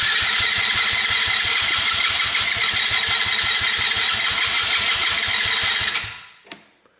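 The starter of a Tao quad ATV cranks on a jump pack without the engine catching: a steady, rapid, loud chugging for about six seconds that stops abruptly, followed by a single click.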